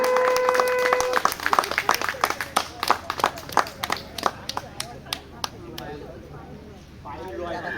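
Scattered hand claps from a gathered audience at a Maha Shivaratri religious function, sharp individual claps in an uneven rhythm that thin out toward the end, with a brief voice and tone at the start.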